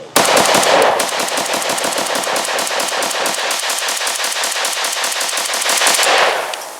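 Ten rounds of rapid automatic fire from an SA RPK rifle chambered in 5.56/.223, a loud, fast and steady burst of sharp cracks lasting about six seconds outdoors on a shooting range.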